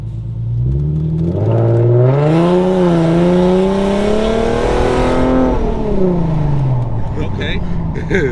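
Infiniti G37 engine with muffler and resonator delete revving hard, the pitch climbing and holding in a loud raspy wail before dropping back to idle, heard up close from inside the car.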